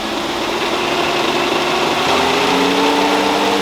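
A car engine with a 727 transmission pulls in second gear on a dyno, a loud sustained drone with a rising tone partway through and heavy vibration throughout, no voices over it.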